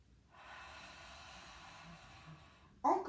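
A long, steady breath during a Pilates exercise, a soft airy hiss held for over two seconds, then cut off by a louder sharp snort-like sound at the end.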